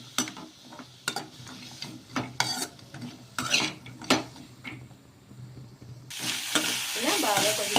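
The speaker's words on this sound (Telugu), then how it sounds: "ఫ్లేమ్లో కొంచెం నెయ్యిలో వేయించేసుకోవాలి ఈ పచ్చి కొబ్బరిని." Fresh coconut pieces fry in ghee with a steady close sizzle, punctuated by scraping stirs and light clinks of a utensil against the pan, building to a dense, loud crackle near the end.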